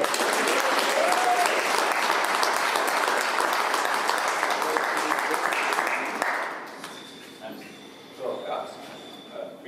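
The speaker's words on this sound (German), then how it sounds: "Insofern einen herzlichen Applaus für Micha und Let's go" An audience at a cannabis conference applauds a speaker, a dense, sustained round of clapping for about six seconds that then fades out, followed by quiet shuffling and a few faint voices.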